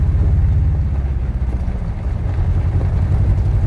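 An old truck engine drones loud and steady while driving with the clutch slipping, a continuous low rumble with slight rises and dips in pitch, nearby and without talk.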